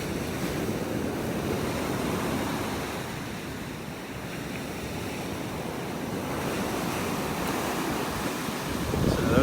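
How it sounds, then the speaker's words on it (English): Ocean waves on a beach in North Naples, Florida roll in as a continuous broad surf wash with gusty wind buffeting the microphone, steady and fairly loud throughout with no talk. "So those waves."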